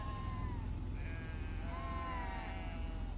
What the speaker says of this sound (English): There's a billion sheep.